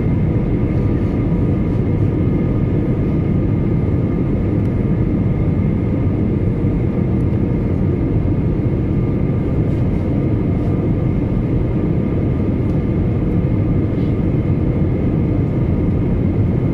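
A steady, loud cabin drone and low rumble from an airliner flying over Paris as it prepares to land, continuous and unchanging throughout with no voices.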